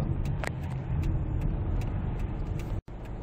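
A Kia Grand Carnival van drives along and makes a U-turn, giving a steady low engine and road rumble with light ticking and clicks throughout, broken by one short dropout near the end.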